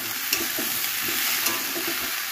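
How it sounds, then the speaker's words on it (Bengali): Ridge gourd and potato chunks sizzle steadily in hot spiced oil in a pan, with repeated soft scraping stirs every half second or so, close and fairly loud throughout, no voices. "এবার এর মধ্যে আমি দিয়ে দেবো ঝিঙে আর আলুটা, দিয়ে ভালো করে কষিয়ে নেবো।"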